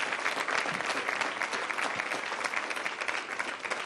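Steady applause fills a city council meeting chamber, a dense continuous patter of many hands clapping at even loudness throughout with no pauses.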